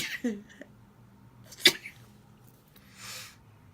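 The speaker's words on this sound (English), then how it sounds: "I'm going to sneeze, I do apologise." A single sharp sneeze near the microphone, with a brief breathy intake before it and a softer exhale afterward, in an otherwise quiet room.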